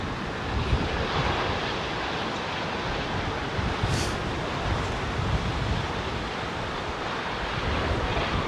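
Aircraft at London Heathrow Airport runway 09L, a broad continuous jet roar that sounds like heavy reverse thrust, loud and steady with wind-like rush and no voices.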